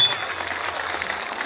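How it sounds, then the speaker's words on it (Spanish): An audience at a clown show claps in steady, dense applause that holds fairly loud throughout, with faint voices underneath. "Queremos empezar con un fuerte aplauso para estas dos personas."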